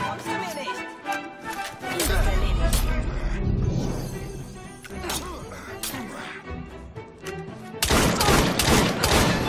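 Loud bursts of rapid gunfire crackle from the game Assassin's Creed Syndicate amid heavy music and effects, with a final dense volley near the end.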